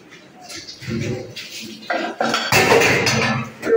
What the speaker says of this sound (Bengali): এই যে বাসন কটা ধুয়ে রাখছি।